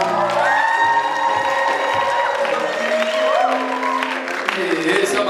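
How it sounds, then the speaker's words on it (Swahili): A crowd at a live Kikuyu music show in Thika claps and cheers, with whoops over loud, continuous music. "wapi makofi yao."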